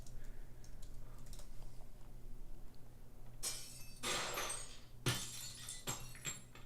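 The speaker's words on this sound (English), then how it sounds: "I feel like glass shattering is going to work for us." Glass shatters in a game sound effect: two or three bright crashing bursts, each with tinkling shards trailing off, played fairly quietly over a faint background hum.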